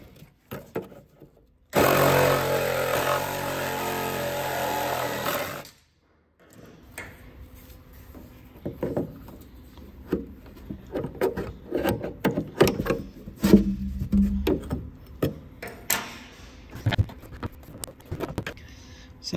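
Rusty hose clamp being cut off a 1976 Datsun 280Z during fuel tank removal: a loud, steady cutting burst of about four seconds, then scattered close metallic clicks, rattles and handling noises.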